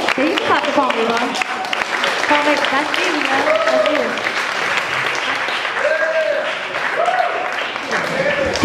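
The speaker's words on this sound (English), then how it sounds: "Yeah, you can clap, come on." Audience clapping at an intimate speakeasy-style conversation event, a steady round of applause mixed with people talking and calling out over it.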